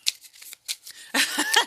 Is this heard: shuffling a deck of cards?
yes